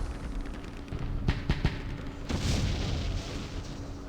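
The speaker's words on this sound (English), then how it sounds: "These mortars and shells are not going to do anything" Mortar shells and artillery rounds burst in a Campaign Series Vietnam battle at Dien Bien Phu: two sharp close blasts, then a heavier rolling boom that rumbles on over a steady low drone, with no voices.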